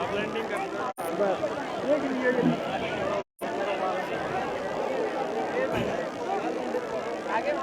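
A helicopter arrives at a helipad near an ashram, its broad engine and rotor roar steady and fairly loud. Crowd noise and voices run underneath, with two brief dropouts in the sound.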